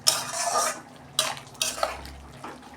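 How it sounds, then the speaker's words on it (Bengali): A metal lid lifted off a cooking pot of simmering bottle gourd and prawns, with a few sharp clanks and scrapes against the rim, separated by quieter gaps. "দেখুন বন্ধুরা, ঢাকনা খুলছি, লাউটা কতটা কমে গেছে দেখুন"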